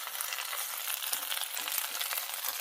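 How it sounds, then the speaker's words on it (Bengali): Water lily stems fry in oil in a pan, with a dense, even hiss of sizzling and a few soft knocks from stirring, close and continuous. "তো এখন একটু তেল দিয়ে দেবো, শাপলা ভাজা হয়ে আসছে।"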